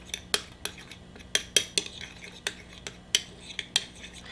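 A spoon stirs Dijon mustard in a small dish, sharp clinks and taps against the ceramic at an irregular pace, close up, with no speech.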